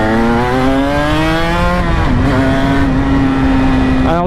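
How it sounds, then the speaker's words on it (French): A Cagiva big-displacement motorcycle engine runs loud and close, a steady droning tone that rises gently then settles, holding constant throughout. "c'est stressant avec le bordel que fait la moto"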